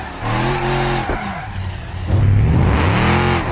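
Scraping, skidding car sound from a driving video game played on a simulator rig built from a Volvo, with the exhaust dragging on the ground, loud and continuous over engine drone with a sharp squeal partway.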